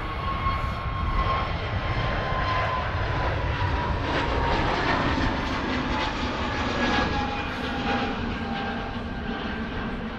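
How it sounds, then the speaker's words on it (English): An EasyJet Airbus A320neo-family jet rolls for takeoff at Manchester Airport. Its engines give a loud, steady roar with no letup for about ten seconds, and no voices are heard. "EasyJet Neo rolling."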